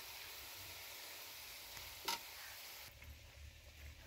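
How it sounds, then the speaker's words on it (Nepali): Spice masala frying in a pan for Akbare chili pickle gives a soft, steady sizzle throughout, with a brief stirring scrape near the middle and a slightly louder stretch toward the end; no talking. "आठ चम्चा चाहिँ मसला हाल्ने, पकाउने।"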